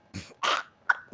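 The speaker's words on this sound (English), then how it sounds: "Hang on, let me cough a little" A few short throaty bursts, close and fairly quiet, like someone clearing their throat and giving small coughs.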